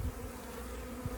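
Honeybees cluster onto a branch that carries their queen's pheromones, producing a faint, steady buzz for about a second.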